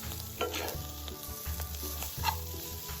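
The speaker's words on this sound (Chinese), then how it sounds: "接着将炉调至低火，将预先备好的糯米饭加入，稍微拌一拌，避免底部烧焦" Cooked glutinous rice stirred in a pan on low heat, making a quiet continuous sizzle with soft scraping and stirring strokes in a steady rhythm, close and alone.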